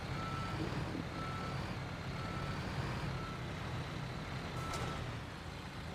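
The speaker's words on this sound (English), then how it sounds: "We'll reverse our truck back into the hopper." Truck in the Construction Simulator video game reversing into an asphalt paver hopper on a housing estate roadwork job, its reversing beeper sounding in a steady repeating pattern over a constant rumbling engine.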